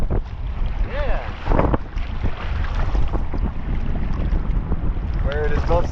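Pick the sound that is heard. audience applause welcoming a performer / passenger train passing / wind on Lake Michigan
wind on Lake Michigan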